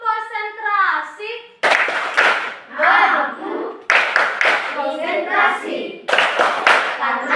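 Children in a classroom chant in unison with rhythmic clapping. Group voices come in quick bursts with sharp claps between the phrases, all close and loud.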